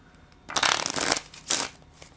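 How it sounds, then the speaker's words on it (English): Two quick bursts of in-the-air riffle shuffling of playing cards, a long crisp flutter followed by a shorter one, close by and with no talking. "An in the air riffle shuffle is one of these."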